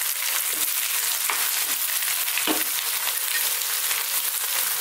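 Lamb or mutton fries in a pan for an Indian curry, a steady dense sizzle with a few soft scraping stirs, fairly close and without voices.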